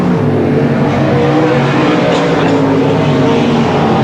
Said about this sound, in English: Engines roar, pistons pump.